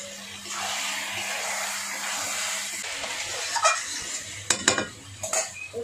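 Chicken kosha being stirred in a pan, a low sizzling hiss underneath that gives way to sharp scraping and clinking of a metal spoon against the pan in quick bursts near the end.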